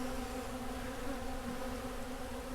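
Honey bees buzz steadily around bee feeders, a continuous dense hum of many insects, fairly faint and unbroken, with no voices.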